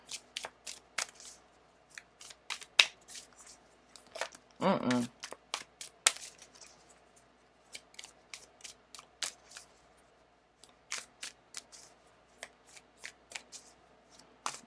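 Tarot cards are shuffled in quick rhythmic riffles and snaps, close and crisp, with a brief burst of rapid flicking midway and scattered card taps throughout.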